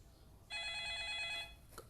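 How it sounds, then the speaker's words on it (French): A telephone rings in a homemade FNAF-style horror game built in Scratch, one steady electronic ring lasting about a second over a low hiss and then cutting off, with a few faint clicks after it. "j'ai fait le son du jeu habituel avec le téléphone"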